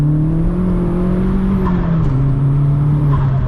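A Vauxhall Astra VXR engine pulls hard on a night road, a loud steady drone rising in pitch, dipping briefly as it shifts, then climbing again close up inside the cabin.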